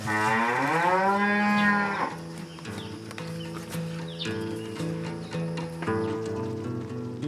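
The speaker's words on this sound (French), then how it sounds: "Ça, c'est la vache de ma fille, hein." A cow on a farm in rural Rwanda gives one long, loud, close moo that rises and fades over about two seconds, then steady background sounds and faint clatter continue.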